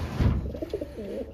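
Racing pigeons being basketed for a 288 km race at Raetihi, New Zealand, coo nearby in a soft, repeated throaty phrase that follows a brief rustle, with no talk.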